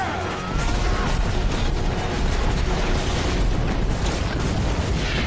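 Explosions in the movie Mad Max: Fury Road: a loud, continuous roaring blast and rumble that fills the whole stretch with heavy, dense noise and no pauses.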